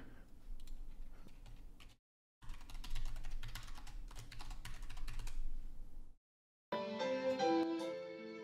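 Rapid, irregular keystrokes on a computer keyboard, typing in three close bursts separated by short pauses, with a brief musical tone sounding near the end.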